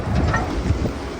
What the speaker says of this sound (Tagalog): Yung crane magalaw sa lakas ng hangin at yung tunog ng hangin